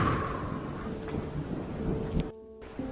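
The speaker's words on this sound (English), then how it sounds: "all of the noise, the heavy rain, the crack of thunder, the ground shaking" Thunderstorm with heavy rain: a steady wash of rainfall with low rumbling thunder, moderate in level, ending in an abrupt cut to near silence before the rain returns faintly.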